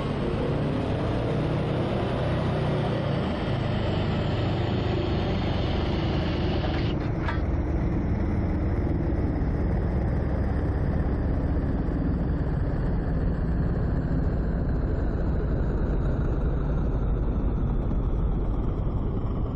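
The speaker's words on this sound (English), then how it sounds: "Engines are very loud." Loud, steady engine drone from a WW2-era aircraft in the online game WW2 Online, a continuous broadband roar that holds without a break, with a brief sharp click partway through.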